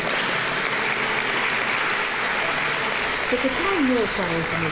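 Audience applause at a brain health fair keynote, a continuous even patter of many hands through the whole stretch, with a voice starting to speak over it near the end.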